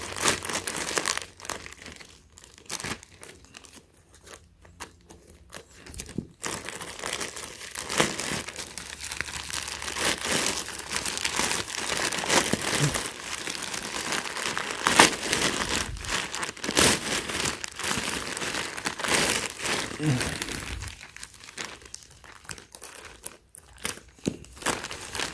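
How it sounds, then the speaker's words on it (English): Crinkling and tearing of a plastic clothing package holding a short-sleeve tee and a long-sleeve black tee as it is cut open and unwrapped, a steady close rustle with sharp crunchy bursts running throughout, with no voice present. "Let's go ahead and cut this open real quick."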